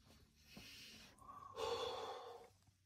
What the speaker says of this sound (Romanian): Dă drumul la respirație.